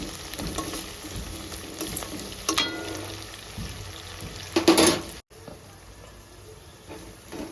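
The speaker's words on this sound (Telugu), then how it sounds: "ఉల్లిగడ్డ ఫ్రై అయినాయండి" Onions frying in oil in a pan for a cucumber and egg curry, a continuous close sizzle with occasional stirring scrapes and a louder clattering burst near the end, no talking.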